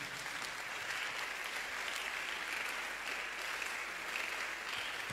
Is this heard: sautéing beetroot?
no